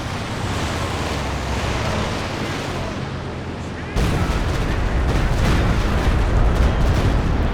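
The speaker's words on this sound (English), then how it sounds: "Pretty good walking Stuka barrage." A walking Stuka artillery barrage from Company of Heroes 2 plays as a dense, continuous rumble of overlapping explosions, loud and steady, with a sharper burst of impacts partway through.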